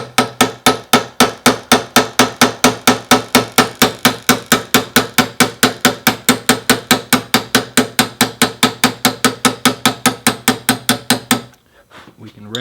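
Hammer tapping steadily on a punch against a Fender guitar fret during sideways fret removal, about four crisp metallic strikes per second, close and loud, continuing for over ten seconds then stopping.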